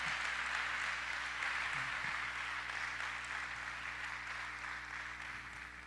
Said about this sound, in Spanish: Démosle un aplauso fuerte